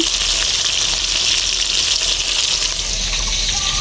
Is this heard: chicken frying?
yes